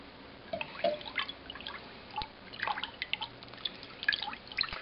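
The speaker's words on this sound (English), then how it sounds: "we put in 1 tablespoon of this, it's iodophor" Iodophor sanitizer is poured into cold water in a bottling bucket for home brewing an IPA, giving quiet irregular drips, splashes and trickles that stay close and faint throughout.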